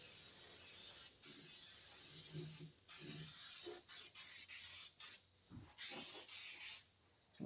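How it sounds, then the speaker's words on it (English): A steady hiss of spray coats bare parts of a 1966 Ford Mustang in a shop. It comes in long continuous passes broken by brief stops, close and moderately loud. "Let's spray it on some stuff up here that don't have nothing on it."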